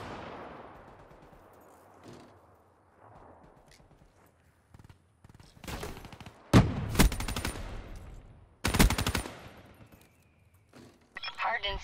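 Video game gunfire in a multiplayer shooter, sharp bursts of automatic shots in two loud clusters near the middle and a final burst at the end, with quieter game effects and faint voice-over between.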